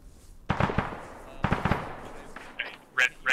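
A grenade blast in the military video game Arma 3 booms sharply and close, followed by further bursts and crackling gunfire-like pops, with a voice talking underneath.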